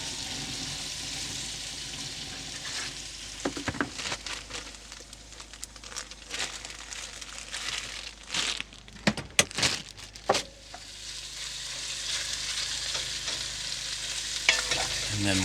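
Food frying and sizzling in a pan at a cold winter campsite beside a truck camper, with steady crackle and intermittent stirring scrapes and clatter; no talking.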